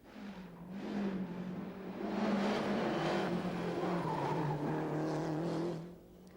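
A Lancia HF Integrale rally car driven by Piero Longhi for the Grifone team at the 1992 Rali Vinho da Madeira passes at speed, its engine note rising and falling with a hint of tyre squeal, moderately near.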